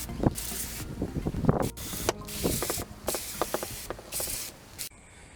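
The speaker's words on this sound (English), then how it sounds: "So I'm going to use a mist setting on the hose." A garden hose on a mist setting sprays water across a car engine bay in bursts of hissing spray, loud and close, with short pauses between passes and a sudden stop at the end.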